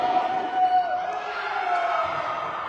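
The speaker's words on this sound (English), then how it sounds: "You hear the crowd." A crowd at a girls' varsity high school basketball game keeps up a sustained roar with cheering and a shrill, wavering whistle-like tone running through it, fairly loud and continuous.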